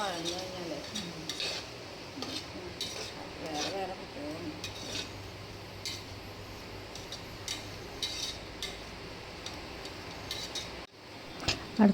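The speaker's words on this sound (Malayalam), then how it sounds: "നല്ലോണം ഒന്ന് അതിൻ്റെ പച്ച മണമൊക്കെ മാറണ വരെ നന്നായിട്ട് വഴറ്റിക്കൊണ്ടിരിക്കണം." Ingredients for tomato rice sautéed in a pan, with a steady soft sizzle under repeated scraping and clinking of a spoon against the metal, close by, with brief sharper clanks near the end.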